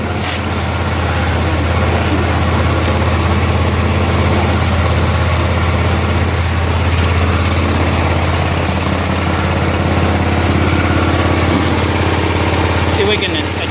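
A 1988 Club Car golf cart's engine runs steadily with a low, continuous drone, its idle mixture recently adjusted and the cart in gear, while a person talks over the noise throughout.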